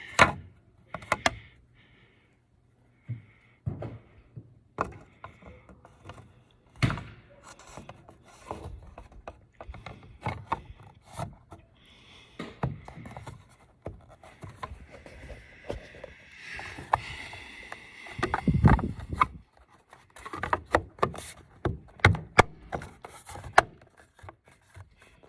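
The back end of a cover for a custom Silverado roof rack is being cut off, producing scattered scraping and rasping strokes with sharp knocks in between and brief quiet gaps, fairly close and without voices.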